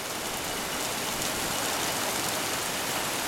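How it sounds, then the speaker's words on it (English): A constant wash of fairly heavy rain fills the air in calm conditions, bright and full-bodied, close and unvarying from start to finish, with no talk. "The atmosphere is filled with rain."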